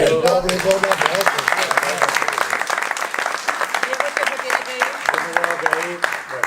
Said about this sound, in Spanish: un aplauso aquí